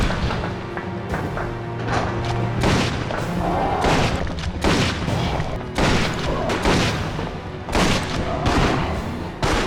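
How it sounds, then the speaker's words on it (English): Magnum Revolver fire against the Tyrant in Resident Evil Outbreak File 2: heavy, booming shots and impacts land in a dense irregular series over thick game noise, loud throughout. "So it took me 7 shots from the Magnum Revolver to defeat the Tyrant"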